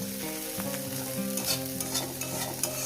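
Dried shrimp stir-fried in a pan crackle and sizzle continuously, with a spatula scraping and stirring through them, and a tonal hum sits underneath with no talking.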